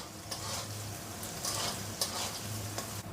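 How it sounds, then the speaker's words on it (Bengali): Three large onions frying in a pan for chicken keema ghugni, a steady close sizzle with intermittent scraping stirs throughout and no talking. "এবার ভেজে নেব।"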